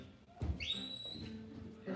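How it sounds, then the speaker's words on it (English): A shepherd gives a whistle command to a working sheepdog: one clear, rising then steady whistle blast, moderately near, heard over light outdoor background noise. "then you progress up to whistles"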